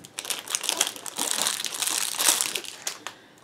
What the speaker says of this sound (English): I'll take this out of the plastic.